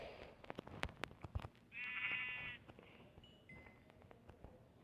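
Sheep bleat in a Minecraft-style survival video game, one clear sustained bleat standing out amid clicky game sounds and brief talk.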